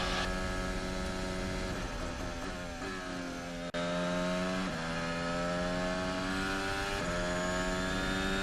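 Max Verstappen's Red Bull Formula 1 car, driving at Abu Dhabi in 2021, screams through repeated upshifts. The engine note keeps climbing and then drops at each gear change. The sound is loud and continuous, and nobody talks.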